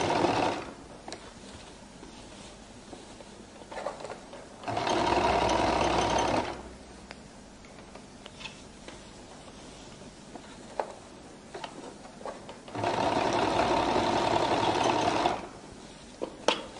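A sewing machine top-stitches along the waistline edge of a flared skirt in two loud, steady bursts of whirring, each about two seconds long, separated by quieter handling noise.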